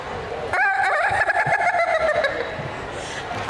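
At a county fair crowing contest, a person imitates a rooster with one long, loud, drawn-out cock-a-doodle-doo over crowd murmur and scattered noise.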